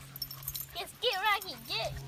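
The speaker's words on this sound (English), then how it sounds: "There's dog. Another dog." A dog gives a few short, high, wavering whimpers close by over quiet background noise, with a person's voice nearby.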